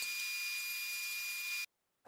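A table saw cuts scrap wood with a steady high-pitched whine, then cuts off abruptly. A brief thump follows after a short silence.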